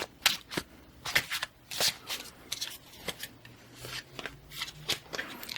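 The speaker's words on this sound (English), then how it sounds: "we can pull a couple of cards" Tarot cards being shuffled and pulled up close, with repeated crisp riffling bursts and soft slides at an uneven rhythm, quiet and intimate, with no talking.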